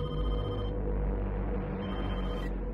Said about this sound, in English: Is this Gale's first phone call with the killer?